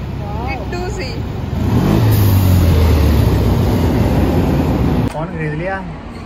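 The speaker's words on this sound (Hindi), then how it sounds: "गाड़ी कितनी प्यारी आ रही है" A car drives past on a street in Germany, its engine swelling into a loud, close roar that holds for a few seconds before dropping away, with someone talking before and after it passes.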